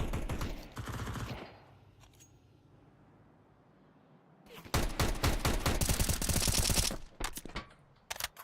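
Counter-Strike gunfire from an MP9 and an AK: a short burst of rapid automatic shots, a long lull with only faint ambience, then a loud, sustained volley of fast shots before a few final scattered rounds.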